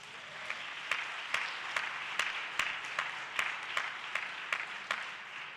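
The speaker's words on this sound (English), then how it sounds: "You ought to clap your hands right there." A church congregation in Rochester claps hands in a steady rhythmic beat, sharp unison claps about every half second over a lively background of scattered clapping.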